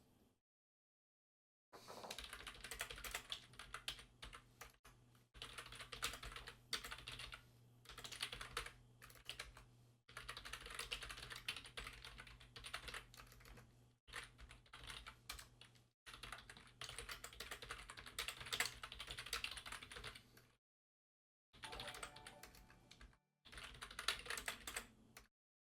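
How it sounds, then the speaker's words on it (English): Someone types quickly on a computer keyboard, with dense, close clatters of keys in bursts of several seconds separated by short silent pauses. "If only I was better at typing."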